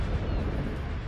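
A naval gun firing in World of Warships, a single heavy low boom that rumbles densely through the whole short moment, loud and close with no talking over it.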